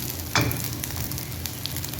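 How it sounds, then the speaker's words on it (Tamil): Fish fries in a pan with a steady, close hiss of hot oil and a brief louder sizzle burst early on. "ஸோ இப்போ இது ஃப்ரை ஆகட்டும்."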